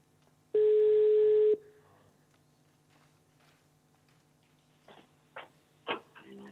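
A single long electronic ringing tone sounds loudly for about a second, followed by quiet room noise and a few faint clicks and rustles.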